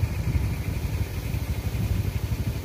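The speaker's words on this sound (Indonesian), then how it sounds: "Ada motor yang melintas nih." A motorcycle passing on a concrete road near the Ciawi dam, heard as a steady, fairly close low engine rumble with a faint clatter, and no talking over it.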